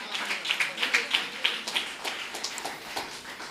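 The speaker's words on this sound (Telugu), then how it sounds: "చప్పట్లు కొట్టండి గట్టిగా" A church congregation claps loudly in an indoor gathering, with a steady run of sharp, overlapping handclaps over a few seconds and faint voices underneath.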